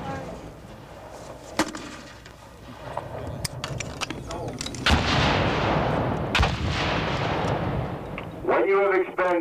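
Rifle shots crack out at an outdoor military firing range during cadet summer training, several sharp reports scattered through the stretch amid background rumble, with a voice speaking near the end.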